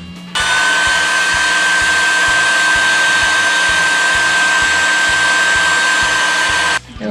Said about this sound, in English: we're going to be using the heat gun to